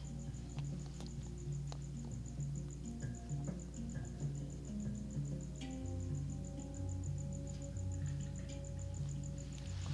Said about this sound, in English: The crickets are cricketing, okay?